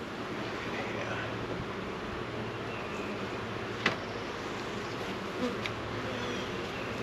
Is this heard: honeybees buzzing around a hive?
yes